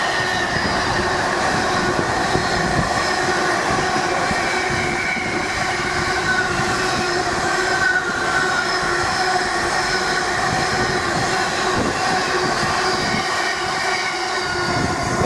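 Class 66 locomotive 66753 hauls an intermodal freight train through Stowmarket station past a crossover, a loud, continuous rumble of wheels and wagons with rail squeal and clatter, close by and unbroken throughout.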